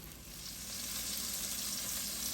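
Beef frying in a hot pan for country stew, a steady close sizzle that holds even and slightly builds across the stretch, with no talking.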